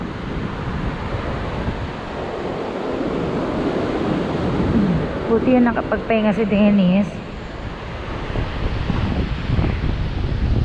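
Strong wind buffets the microphone as ocean surf rolls in at a Boracay beach, a loud continuous roar with people talking over it.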